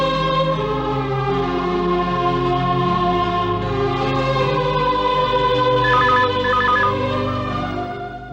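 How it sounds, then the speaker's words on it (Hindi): A telephone rings steadily with a repeating electronic tone in a Hindi TV drama, fairly loud and continuous, over a sustained musical background. "दिशा बेटी, फोन लेना जरा।"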